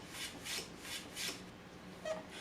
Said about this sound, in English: So I clean up this little piece of 1/4 inch yellow heart by hand and get a nice smooth surface on both sides.